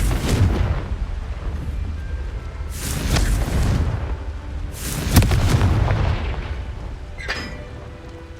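Confringo fire spell explosions in the Hogwarts Legacy video game: three heavy booming blasts with rumbling tails, spaced a couple of seconds apart, loud and close over continuous low game noise.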